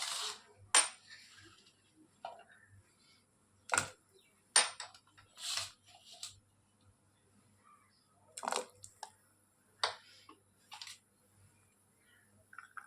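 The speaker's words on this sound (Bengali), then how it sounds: "আলু আর কড়াইশুঁটি আগে দিয়ে দিচ্ছি," Potatoes and peas dropped into a pot of boiling water: scattered clinks and soft plops against a quiet background, spaced irregularly and fairly faint.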